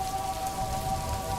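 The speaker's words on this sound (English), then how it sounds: "The rain outside continued its steady, gentle rhythm, a constant, soothing presence beyond the walls." Steady, gentle rain falls outside, a continuous even wash of drops with no breaks, moderately quiet throughout, with a faint steady tone running beneath it.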